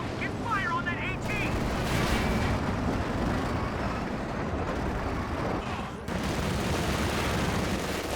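Dense, continuous battlefield gunfire and rumbling blasts from the World War II strategy game Company of Heroes 2, with a Panther tank and anti-tank gun in action, loud and steady throughout with a brief dip near six seconds.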